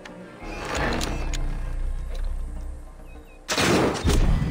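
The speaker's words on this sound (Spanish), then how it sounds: "¿Quieres ver más tiros?" Gunfire from a video game bursts out in rapid, heavy shots, a sustained rumbling volley that dips briefly and then returns louder with sharp close cracks near the end.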